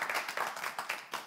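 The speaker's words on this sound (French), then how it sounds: "applaudissements" Studio audience applause at a French quiz show, a short burst of moderate clapping from a crowd, fairly faint and fading out over about a second.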